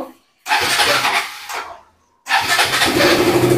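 A KTM RC 200 motorbike engine starts twice with loud cranking bursts, catching into a rough idle before dying briefly, then firing again and holding a steady close idle.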